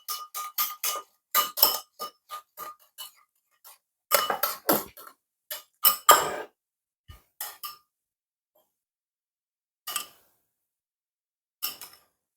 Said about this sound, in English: I'm going to give him a bit of stir.